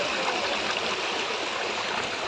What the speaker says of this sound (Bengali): এদিকে দেখো এত সুন্দর জল বেরোচ্ছে